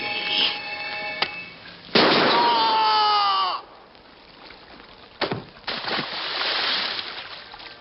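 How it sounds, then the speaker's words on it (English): Two pistols fired in an audio drama, heard as sharp bursts with one loud blast near the middle, a brief crack before it and further pops toward the end, each standing alone without voices. "I fired both my pistols"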